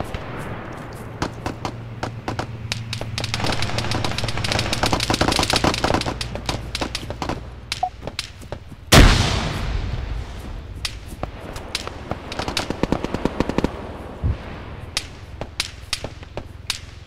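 Gunfire rings out in the military shooter Arma 3 on the Tanoa map: scattered sharp single shots and quick bursts, some close and cracking, others more distant, with one especially loud blast midway.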